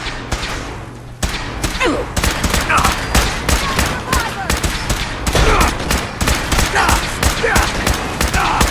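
Rapid bursts of gunfire in the video game Fallout 4 on hard difficulty, repeated sharp shots and thuds fired in quick succession and loud throughout, with brief voice lines mixed in.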